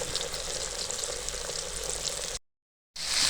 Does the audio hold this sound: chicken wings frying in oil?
yes